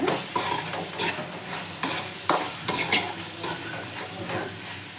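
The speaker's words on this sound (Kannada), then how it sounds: "ಅರಿಶಿನ, ಖಾರದ ಪುಡಿ, ಧನಿಯಾ ಪುಡಿ, ವಾಂಗಿಬಾತ್ ಪೌಡರು ಎಲ್ಲ ಕಲಿಸ್ಕೊಳ್ಳೋಣ" Spoonfuls of turmeric, chili powder, coriander powder and vangibath powder stirred through vegetables frying in a pan for hotel-style vangibath, with steady close sizzling and repeated scraping strokes of the spoon, no voices.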